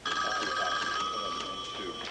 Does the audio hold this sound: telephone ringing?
yes